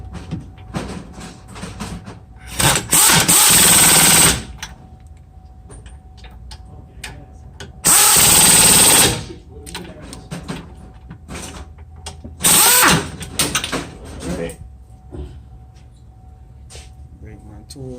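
A tool tightens a 17mm brake caliper bolt on a Santa Fe during a front brake job, with three loud bursts of a few seconds each amid clanks and handling noise while someone talks.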